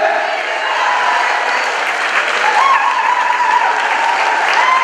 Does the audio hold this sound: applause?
yes